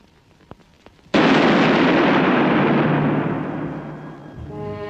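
A single loud gunshot-like blast from a 1935 Soviet film, preceded by a few faint clicks, then a long rumbling explosion roar that slowly decays over several seconds, with no voices.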